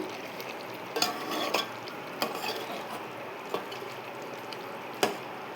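A utensil scrapes and stirs chicken in a pan for gongura chicken, with a few sharp clinks against a steady background sizzle.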